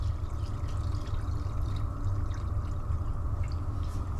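Color shift pearl automotive paint pours in a steady, soft liquid stream, close and continuous with a low background rumble and no voices.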